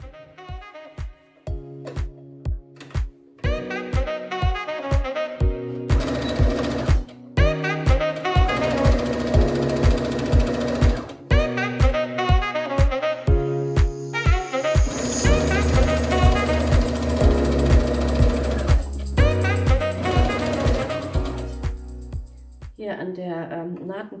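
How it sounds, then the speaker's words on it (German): A sewing machine stitches a long seam along a scarf being upcycled into a bread basket, running in repeated bursts of rapid mechanical whirring with brief pauses, close and fairly loud, with no talk over it. "also gesteckt und jetzt nähe ich eben diese lange Seite einmal runter."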